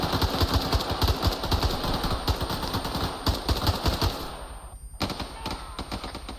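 Rapid bursts of airsoft gunfire crackle through a milsim training exercise, dense and loud for several seconds before cutting out briefly, then scattered shots resume at a lower level.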